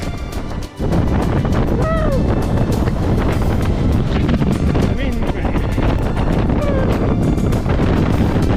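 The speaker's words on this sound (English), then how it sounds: "That's windy." Strong wind buffets the microphone in a constant loud roar near the summit of Pen y Fan, Wales, with brief gusts and faint voices underneath.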